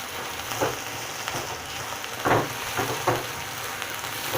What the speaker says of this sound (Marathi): मीडियम साईजचे चार कांदे घेतलेले आणि चांगले फ्राय करून घ्यायचे त्यांना